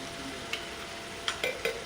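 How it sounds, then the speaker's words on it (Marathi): Crushed garlic goes into hot oil in a pan while cooking masoor dal, giving a faint, soft sizzle broken by a few sharp clinks of a spoon stirring against the pan. "आता आपल्याला लसूण टेचलेला आहे ना, तो घालायचा आहे."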